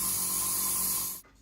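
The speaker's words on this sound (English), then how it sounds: "I spray away from me, more black at the top and less black to the bottom" A spray gun hisses as it coats chocolate Easter eggs with black-tinted cocoa butter warmed to about 40 degrees, a loud, steady blast lasting just over a second before cutting off abruptly.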